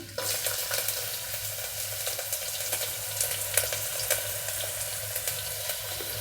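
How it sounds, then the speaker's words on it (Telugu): Mustard seeds, cumin and dried chillies sputter and crackle in hot oil for a millet kichidi, a steady dense sizzle with scattered sharp pops throughout, close and fairly loud with no talking. "ఆవాలు జీలకర్ర ఎండుమిరపకాయలు చుట్టుపట్ల ఆడుతున్నాయి కదా"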